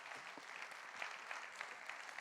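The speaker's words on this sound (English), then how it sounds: "Applause, please." Faint, distant applause from a conference audience welcoming a speaker, an even wash of many hands clapping with a few sharper claps standing out.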